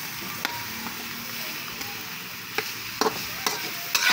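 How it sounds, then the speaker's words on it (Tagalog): Pieces of pork frying in a pan to render out their fat, giving a soft, continuous sizzle broken by occasional sharp clicks and scrapes of a stirring utensil. "Patutuyan natin itong mga loads para maglabas yung mantika niya"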